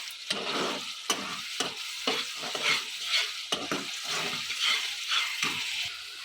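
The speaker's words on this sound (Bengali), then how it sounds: "এবার নেড়ে দেবো।" Chicken roast is stirred as it fries in a pan, with a spatula scraping in repeated rhythmic strokes over a constant hiss of sizzling, close and fairly loud.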